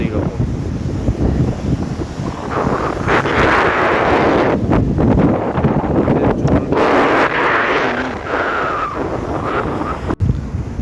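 Strong seaside wind in Vizag buffets the microphone with a loud, continuous rushing rumble that swells and dips, and faint voices sit somewhere in the background.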